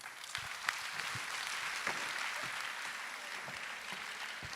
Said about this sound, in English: Ladies and gentlemen, let's please give her a round of applause.